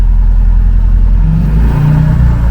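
A car engine under repair revs hard as the accelerator is pressed, a loud, close, steady roar that rises in pitch, with no talk.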